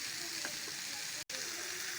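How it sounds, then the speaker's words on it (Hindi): Mixed vegetables stirred in a frying pan make a soft, continuous sizzle with faint scraping of the spoon, quiet and close, broken by a brief dropout near the middle. "तो अच्छे से मिक्स कर लेंगे हम अपनी वेजिटेबल।"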